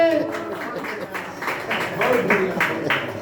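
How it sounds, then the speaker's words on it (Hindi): Small gathering at a family ceremony in Bankata Mishra claps in scattered, irregular bursts beneath ongoing talk and voices nearby. "ताली बजाइए"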